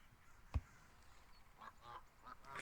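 A cartoonish goose honk from the VRChat video game, a few short nasal calls scattered over a faint background after a brief thump, fairly quiet with no talking.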